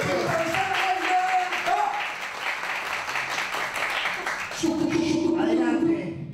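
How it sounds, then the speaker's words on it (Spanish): An audience claps along on a television improvisation show, a busy patter of hands running under raised voices and tonal singing or music throughout. "Fuerte las palmas."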